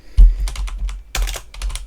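Keystrokes on a computer keyboard while entering Linux terminal commands, arriving as two quick bursts of clicky taps, close and fairly loud, with no talking.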